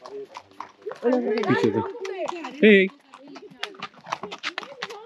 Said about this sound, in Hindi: ये देखिए घोड़े।